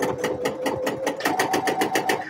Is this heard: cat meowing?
no